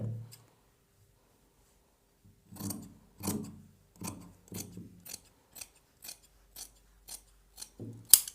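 Scissors snip through churidar lining cloth in a quiet room, a run of about eight crisp, evenly spaced cuts close to the listener after a short pause, each with a sharp blade click.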